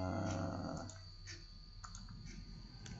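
Sparse, light key clicks from a computer keyboard entering numbers, faint and spaced out over a steady background hum.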